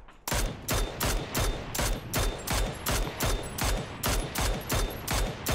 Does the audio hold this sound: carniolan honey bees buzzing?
no